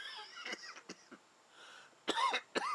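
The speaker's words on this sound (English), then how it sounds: "And I'm still coughing from it" A series of harsh, breathy coughs in uneven bursts, close to the microphone, with brief wheezy pauses between fits.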